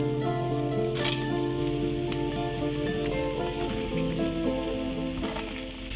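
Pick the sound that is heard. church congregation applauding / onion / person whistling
onion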